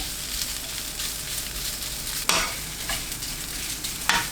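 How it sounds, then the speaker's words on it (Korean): Fish cake stir-frying in a pan over high heat, with a dense, continuous sizzle and hiss broken by two sharp scrapes of a utensil against the pan. No voices are heard. "팬에 어묵을 넣고 센 불로 2분 볶아줍니다"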